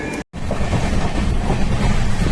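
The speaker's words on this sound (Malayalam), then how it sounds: "Duronto express super fast. നല്ല പോക്ക് പോവും." Duronto Express superfast train running at speed on its route from Mumbai to Kerala, with a loud, steady rumble and rattle of wheels on rails heard close up, broken by one brief cut near the start.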